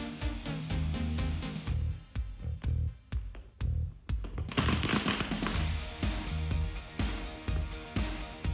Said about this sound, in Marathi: आता लागलाय फटाके उडवायला